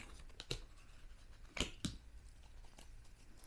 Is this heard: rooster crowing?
no